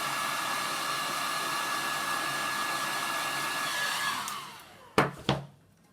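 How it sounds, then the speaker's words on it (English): A hot air gun blows steadily at close range while heating shrink tube on a Zziplex fishing rod, a constant whooshing roar that cuts off near the end, followed by two short knocks. "Hot air gun. Heat that back up."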